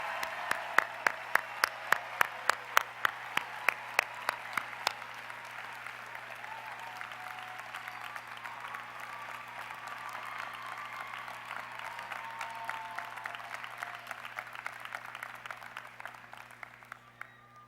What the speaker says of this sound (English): Please give a round of applause to these graduates who have devoted many years to be here today.